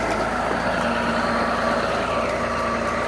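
A tractor engine idles nearby, a loud steady diesel rumble with an even low throb and no change in pace, heard alone throughout.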